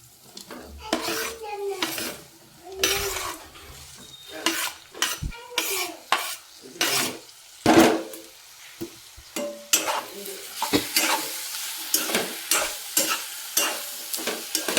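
Bitter gourd being stir-fried in a pan at home, with repeated scraping and clanking of a spatula against the metal pan over a faint sizzle, close and loud in irregular bursts.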